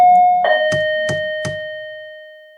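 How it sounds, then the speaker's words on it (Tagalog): A doorbell chimes in a quiet apartment late at night, a sustained ringing tone followed by three evenly spaced sharp strikes, clear and close with no voices. "Who the hell is ringing the bell at this hour?"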